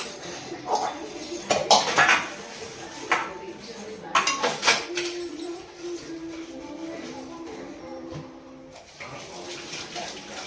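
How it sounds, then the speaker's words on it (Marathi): Dishes, pots and cutlery are washed at home, with clinking metal utensils and clattering bursts over trickling water, some knocks louder and closer, quieter stretches between, and a faint tone in the background. "तर भांडी वगैरे करते"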